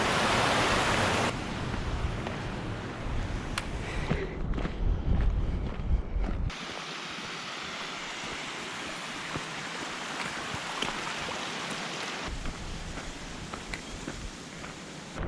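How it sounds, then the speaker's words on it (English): Steady roaring rush of waterfalls along the Tour du Mont Blanc hiking trail, a dense continuous wash of falling water that shifts in character partway through, heard alone without talking. "at least we got nice waterfalls"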